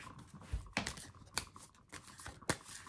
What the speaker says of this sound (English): I am now shuffling your cards.